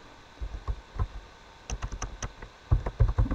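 Fingers type on a computer keyboard in short irregular bursts of crisp key clicks, sparse at first and then quicker and louder near the end, with no voices.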